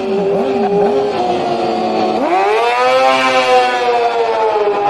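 An old Yamaha racing motorcycle at a road race, its engine note revving up and down, then sweeping sharply higher into a loud sustained scream as it pulls away close by.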